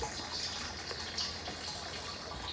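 Rainwater pouring into a 50-gallon Corsican rain barrel from a downspout, a steady continuous gushing and splashing that stays even throughout, close and moderately quiet, with no talking.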